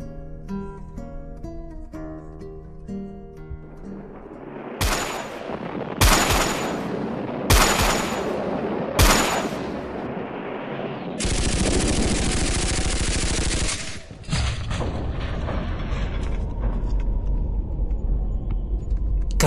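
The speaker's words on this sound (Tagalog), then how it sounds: "Kabi-kabilaan ng putukan." Gunfire and bomb blasts in a sound effect: a dense rattle of shots, then four sharp loud explosions spaced about a second and a half apart, followed by a long roaring burst and continued rumbling fire, with no talking.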